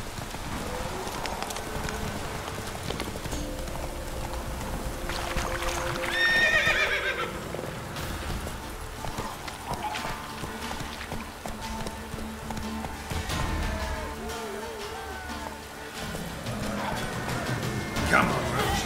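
Roach, the horse in The Witcher 3, gallops with rhythmic clip-clop hoofbeats and gives a short whinny midway, while someone talks over the game sounds.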